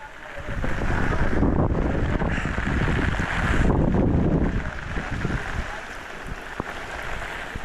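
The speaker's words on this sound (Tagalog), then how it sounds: "Dito na yata ang bagyo." Strong wind of an approaching typhoon at sea, roaring gusts buffeting the microphone alongside water and wave noise, loud and surging, easing slightly toward the end.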